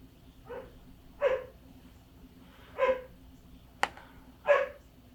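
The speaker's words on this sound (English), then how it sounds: "So I apologize for all the dog barking." A dog barks several times in a loose, uneven rhythm, muffled and somewhat distant from upstairs, with a sharp knock partway through.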